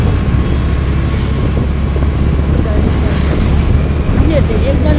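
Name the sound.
Honda Dio scooter being ridden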